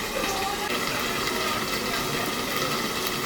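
Hot water pours in a steady, rushing gush onto chicken meat being cooked for a panbahari chicken dish, continuous and close for a few seconds.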